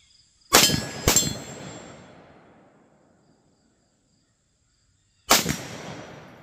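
Rifle chambered in 7.62x39 weighing about six pounds, fitted with a holographic sight, fires three loud sharp shots outdoors: two in quick succession, then a third after a pause of several seconds, each trailing off in a long echoing decay.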